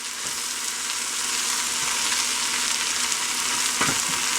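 Vegan pot pie filling stirred in a pan over medium heat after flour is sprinkled in, giving a steady close sizzle with soft scraping strokes throughout, no voices.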